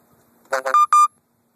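Two short electronic beeps from a camera's low-battery warning, clear and close, following a brief burst of a voice before them.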